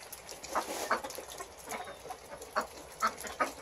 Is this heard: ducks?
yes